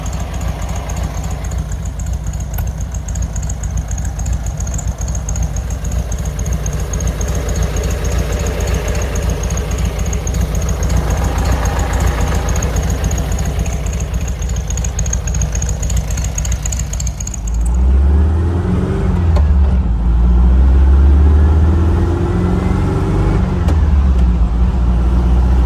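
A 1957 Porsche 356 Speedster replica's engine idles steadily at close range, then picks up into a deeper, louder rev with a rising, throaty pulse.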